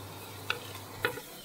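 Onions frying in a pan for chicken biryani give a soft, steady sizzle, broken by three sharp spatula scrapes and taps against the pan, close and fairly quiet.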